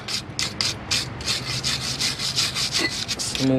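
Rapid back-and-forth scrubbing of brake dust off a Volkswagen brake rotor, a rough rasping rhythm of strokes close up, steady for a few seconds before stopping.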